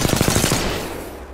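Rapid automatic gunfire in the Apex Legends video game, a quick burst of about eight sharp shots in a tight rhythm, loud and close, followed by a fading echo.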